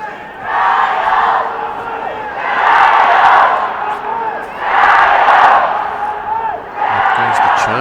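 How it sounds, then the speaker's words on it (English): Local crowd at a men's rugby cup final between China and Japan chanting in loud rhythmic swells that rise and fall about every two seconds, massed voices filling a stadium. "Up goes the chant from the local crowd, willing their local heroes on to win this cup final here"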